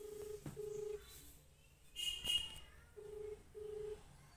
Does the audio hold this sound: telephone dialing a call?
yes